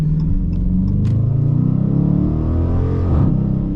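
An older Dodge Challenger R/T engine rumbles steadily as the car accelerates, a loud, close, low-pitched drone that rises slightly near the end, with no talking over it.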